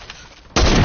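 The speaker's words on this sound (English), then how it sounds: "I just sniped somebody, bro." A sniper rifle fires in the Fortnite Battle Royale video game: after a quiet moment, a single sudden, loud, close shot blast bursts in and fills the end.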